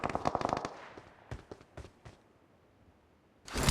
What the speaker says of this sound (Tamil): பட்டாசு அடிக்குதுடா